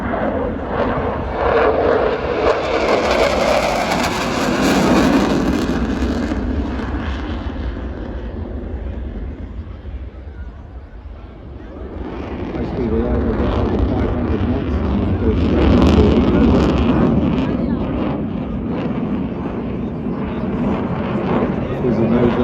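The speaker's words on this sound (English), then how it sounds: "running in, from your left, the Royal Air Force Typhoon" Royal Air Force Typhoon jet fighter at an airshow in Ayr, Scotland, roaring past in two loud waves of jet noise, swelling, fading briefly, then surging again, with a commentator speaking over it.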